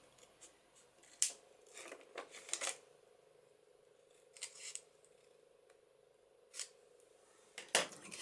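Scissors snip through vellum paper in a papercraft session, several short crisp cuts in small bursts with quiet pauses between, close and fairly soft.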